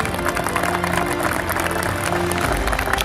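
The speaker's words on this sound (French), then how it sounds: "je vous propose tout simplement de l'applaudir pour saluer sa mémoire" Applause from an assembled crowd honoring the late rugby club president Camille Pédarré at the 2021 inauguration of his namesake sports ground in Mont-de-Marsan; dense, steady clapping fills the whole moment without a break.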